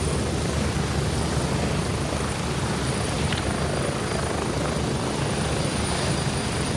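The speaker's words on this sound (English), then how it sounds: "even on the helicopter" In the military shooter game Gray Zone Warfare, a helicopter flies with a loud, steady rotor and engine roar that fills the whole stretch without a break.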